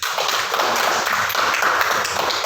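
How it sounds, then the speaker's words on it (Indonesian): Classroom applause for a student named Yogi, a dense, steady patter of many hands clapping together for a couple of seconds at moderate loudness. "Tepuk tangan untuk Yogi"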